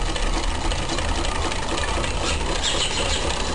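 A sewing machine runs steadily, a continuous mechanical whir and rattle close by, constant in level throughout with no voices over it.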